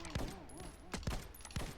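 Three sharp bursts of gunfire from the video game Snake Force crack out at roughly even intervals, fairly quiet and close, over faint game background sounds.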